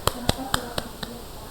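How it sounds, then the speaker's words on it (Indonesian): Five evenly spaced hand claps in a primary school religious lesson, sharp and fairly close in a steady rhythm, with a faint tone humming underneath. "Tepuk tangan."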